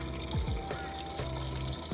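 Filtered water pumped under pressure into a tank on a touring setup, a steady gushing flow with a low pump hum running throughout, no talk over it.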